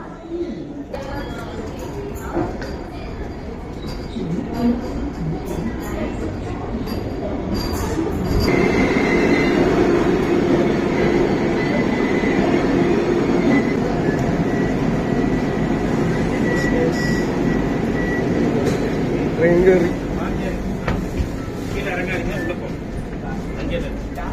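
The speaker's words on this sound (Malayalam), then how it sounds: "ട്രെയിൻ വരുന്നുണ്ട്" A Vande Bharat express train pulls into a station, giving a steady rumbling roar of wheels and carriages with faint metallic clinks, swelling midway and holding over a busy platform murmur.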